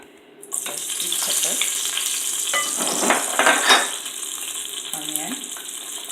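Seasoning, peppers and onion fry in a hot pan for a pasta with tinned mackerel dish, giving a steady close sizzle with occasional stirring clinks and scrapes throughout.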